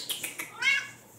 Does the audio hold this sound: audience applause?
no